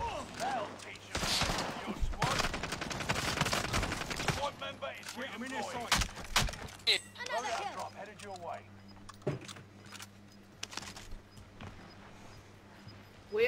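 Gunfire rattles in an online shooter match on an Alcatraz map, loud rapid bursts up front that give way to scattered distant shots under continuous voice chat and in-game talk.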